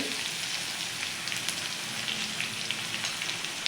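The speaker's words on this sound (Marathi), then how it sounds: "जिरे आपण छान असे फ्राय करून घ्यायचे आहेत।" Cumin seeds frying in hot oil and butter, a steady dense crackling sizzle close up, continuous and even throughout with no talking.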